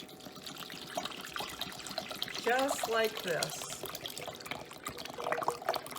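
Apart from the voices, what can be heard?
apple cider vinegar being poured into a pot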